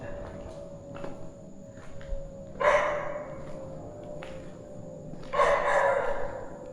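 Dogs barking at a distance near an abandoned school building in Cavite, two short rough bursts of barking several seconds apart over a quiet, steady background.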